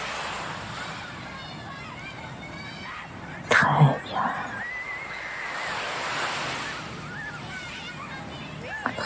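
Soft surf washes steadily onto a beach with a gentle continuous hiss, while a calm voice speaks briefly over it.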